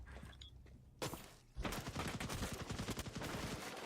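Rapid video game gunfire after a brief burst, dense automatic shots rattling continuously and loudly from about a second and a half onward.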